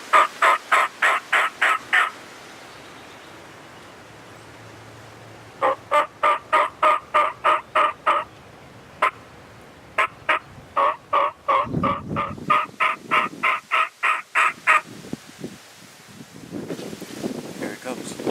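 Wild turkey gobbling during a spring hunt, heard as repeated rapid bursts of loud rattling gobbles in several bouts, mixed with wind noise and occasional calling sounds.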